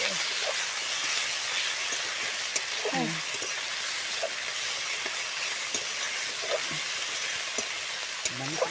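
Onion, ginger and garlic fry in a pan, giving a steady faint hiss and sizzle, with small scraping knocks now and then as the mixture is stirred.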